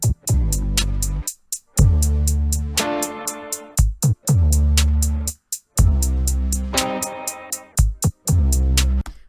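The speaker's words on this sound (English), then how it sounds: "Right, and I have my drums now for the whole track" Programmed drum beat of booming kick, snare hits and rapid ticking hi-hats built in the SoundTrap Patterns Beatmaker, looping in a steady groove with deep sustained bass thumps, loud and up front.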